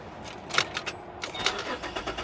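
A Pontiac G8's engine cranks and turns over in short bursts, with a faint jingle of keys, fairly close.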